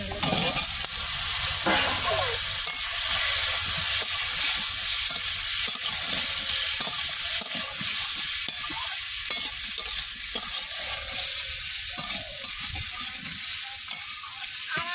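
Home-grown eggplant and bay leaf fry in a pan for a fish curry, giving a steady, close sizzle with repeated scraping strokes of a spatula stirring through it.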